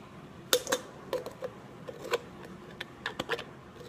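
Sharp metallic snips and clicks of a can being cut, about a dozen short crisp bursts spaced irregularly over a quiet background, close and moderately loud.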